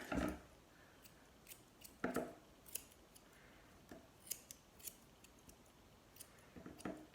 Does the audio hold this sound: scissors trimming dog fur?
yes